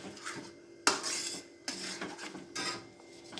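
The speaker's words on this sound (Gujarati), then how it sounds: "એને સખત હલાવવાનું છે" A metal spoon scraping and knocking hard against a pan while cashew sweet mixture with hot ghee is stirred vigorously, several sharp clanks and rasping strokes close up, no voices.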